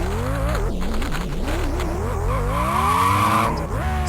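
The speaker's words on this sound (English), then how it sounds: "And spinning the car back round." A race car in a 1991 Japanese Grand Prix racing game spins and skids, its engine wailing and sweeping up and down in pitch under a long tire squeal, loud and close throughout.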